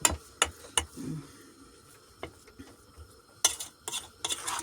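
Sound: mixing egg and salt into cheese for syrniki

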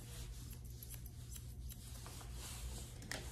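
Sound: scissors trimming Yorkie dog's hair

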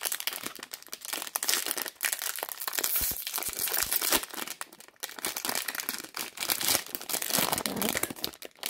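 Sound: opening the wrapper of a Bombbar protein brownie

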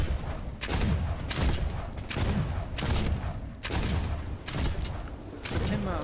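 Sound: gunfire in the video game Fortnite

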